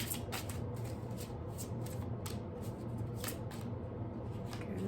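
A deck of oracle cards is shuffled up close, a soft continuous run of rapid papery riffles and flicks with no one talking.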